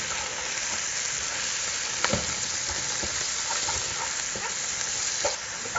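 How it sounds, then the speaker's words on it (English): Chopped Vidalia onion with a little garlic fries in bacon grease, a steady dense sizzle with occasional scraping stir clicks throughout, close and continuous. "I'm going to stir this up with that bacon grease. Start cooking these onions down a little bit."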